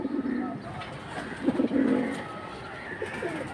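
A male pigeon coos in a few rolling, throaty bursts close by, the strongest around the middle, with faint background noise and no speech.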